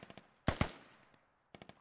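Gunfire in the Squad military shooter game: a short early burst of automatic shots, then a loud pair of close blasts fitting a grenade, and another rapid burst of shots near the end.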